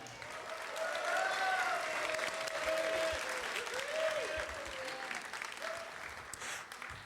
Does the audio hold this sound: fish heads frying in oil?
no